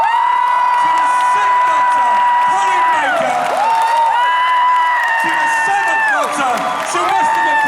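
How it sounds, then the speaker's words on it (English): A big crowd at a Comicpalooza Houston fan convention panel cheers, whoops and claps loudly and steadily for Doctor Who's 5th Doctor actor Peter Davison, with voices shouting through the applause. "give a massive Comicpalooza Houston round of applause to the 5th Doctor"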